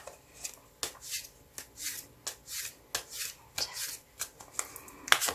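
Tarot cards are shuffled and drawn by hand: a close, steady run of soft riffling shuffles and light slaps, repeated in quick rhythmic bursts with no voices.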